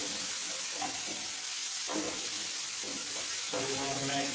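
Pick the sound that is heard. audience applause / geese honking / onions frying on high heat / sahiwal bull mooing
onions frying on high heat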